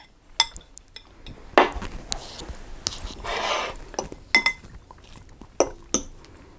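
Spice powder is mixed into instant noodles in a bowl, with scattered utensil clinks and scraping against the bowl and a brief softer stirring swish in between.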